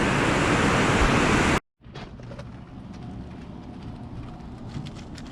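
Heavy rain pours down on a hot day as a loud, dense roar that cuts out abruptly, then returns as a softer, steady patter with scattered drops close by.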